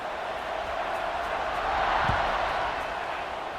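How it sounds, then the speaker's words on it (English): A football stadium crowd at a Cincinnati vs. Houston college game buzzes after a touchdown, a steady distant roar that swells briefly and settles again. "this crowd is buzzing after that last score"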